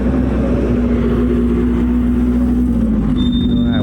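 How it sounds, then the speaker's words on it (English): Cars on a drag racing track make a loud, steady engine drone with a constant low hum, a continuous mechanical roar heard without talking. "So, I hear some cars. There's still some cars on the track out there."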